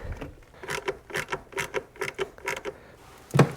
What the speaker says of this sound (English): 8 millimeter with a 1/4 inch ratchet